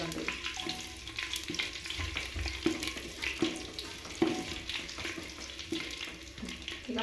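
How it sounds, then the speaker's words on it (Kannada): Kasuri methi, dried fenugreek leaves, frying in oil, a crackling sizzle with frequent stirring scrapes and clinks, close and fairly steady. "ಅದ್ರೊಳಗನ ಸ್ವಲ್ಪ ಕಸ್ತೂರಿ ಮೆಂತಿ ಹಾಕೋಣ ಅದು ಸ್ವಲ್ಪ ಎಣ್ಣೆ ಒಳಗೆ ಫ್ರೈ ಹಾಕಂದ್ರೆ"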